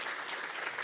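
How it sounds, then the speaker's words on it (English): Church congregation at an Easter service clapping, a brief, full burst of dense applause filling the whole moment. "Let's give her a round of applause."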